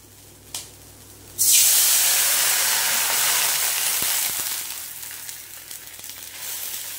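Water poured into a hot pan of spiced fenugreek (methi) masala sets off a loud, sudden sizzling hiss that bursts in after a quiet moment, then slowly settles into a steady, softer bubbling sizzle.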